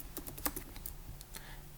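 Keys clatter on a computer keyboard in a quiet room, a quick run of light, close taps ending with a firmer press of the enter key.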